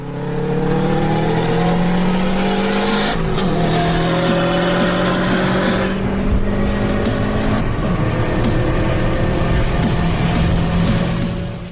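An Audi A3 with 320 hp accelerates hard, its engine note climbing loudly and steadily through the gears with brief drops at each shift, close and continuous.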